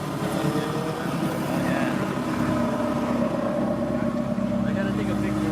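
A sports car engine idles steadily after a quiet startup, a low, even hum that stays at the same level throughout with no revving, close by.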